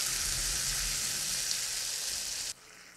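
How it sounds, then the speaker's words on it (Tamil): Cooked dal tipped into a hot pan for Tamil molagootal, giving a loud steady sizzle and frying hiss that drops off sharply near the end. "இந்த பருப்பை இதில் கொட்டிடலாம்."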